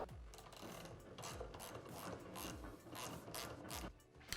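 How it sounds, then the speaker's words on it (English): Ratchet wrench removing the nut from a Showa shock shaft on a Honda dirt bike, a close series of quick clicking strokes in uneven bursts. "Now we're ready to remove the nut."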